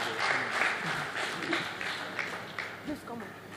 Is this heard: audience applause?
yes